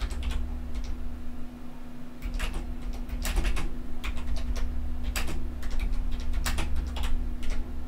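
Keystrokes on a computer keyboard while content is typed, sounding as scattered clicks and short runs over a steady low electrical hum and background noise.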